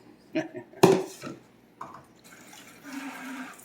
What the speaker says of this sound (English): We'll just dump the rest of the bowl in there, huh?